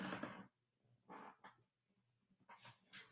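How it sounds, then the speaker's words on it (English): A rescued dog makes a few short, quiet vocal sounds indoors, brief growly whimpers and grumbles in separate bursts with pauses between them, close by but soft. "My dog Bruno just walked in"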